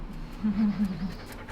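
A young dog just over a year old pants close by in quick rhythmic breaths, with low household noise in the background.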